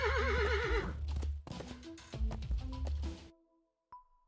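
A horse in the video game Willy Morgan gives a loud, wavering whinny that trails off, followed by scattered hoof clatter and game sounds, ending with a brief chime.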